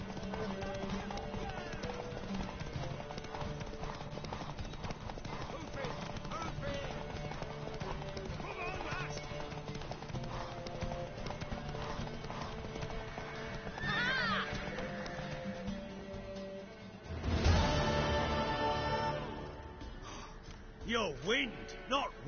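Horse from The Witcher 3 clip-clopping steadily under game music and dialogue, hoofbeats clearer near the end with a loud burst that may be a whinny; people talk throughout.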